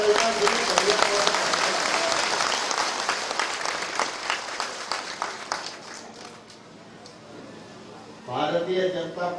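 A political rally crowd claps loudly, the applause gradually thinning and fading over several seconds before a voice starts speaking over the quiet hall.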